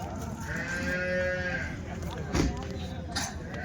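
Cows low at a busy weekly Wednesday cow market in Punganur, one drawn-out moo rising over steady crowd murmur and voices nearby.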